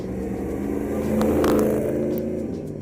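A 1982 Chevrolet Camaro Z28 Indy 500 pace car engine rumbles close by, its deep, steady drone swelling briefly mid-way as if revved, then easing back, with no voices.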